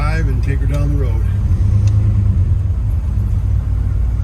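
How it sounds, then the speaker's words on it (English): A 1956 Chevrolet Bel Air pulls away with a close, heavy, steady engine rumble, and a voice is heard briefly at the start. "So we'll go ahead and put her in drive and take her down the road."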